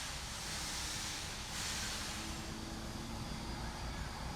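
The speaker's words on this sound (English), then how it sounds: "So you can see here the locomotive's about to come." Steam locomotive 3526 approaching, a broad steady hiss and rumbling chug that swells slightly midway, heard from trackside at moderate distance without voices.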